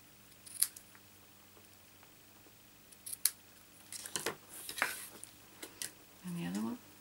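Scissors snip along the edges of paper while a Christmas basket is being made, a few short crisp cuts scattered through a quiet stretch, close by with no talking.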